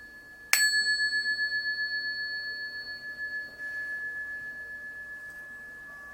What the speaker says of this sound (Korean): 자, 지금 종소리가 났지요.